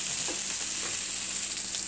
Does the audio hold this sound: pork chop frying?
yes